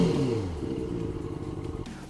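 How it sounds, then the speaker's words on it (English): QJMOTOR SRK 600 RR motorcycle with a big, loud four-cylinder engine, revving up and then settling into a rough, steady idle, close and loud with no speech. "it has an enormous, huge and loud 4-cylinder engine."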